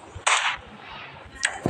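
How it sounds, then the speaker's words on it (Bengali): Gunshots ring out in a 3D bike-driving video game, two sharp cracks about a second apart, loud and close over quiet game background. "ওরা আমার উপর গুলি মারতেছে,"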